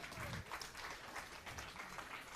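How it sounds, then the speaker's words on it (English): Audience applause at a mixed 10m air rifle standing final, a steady wash of clapping from a crowd lasting the whole moment at moderate level. "Big applause for that. Come on, ladies and gentlemen, applause!"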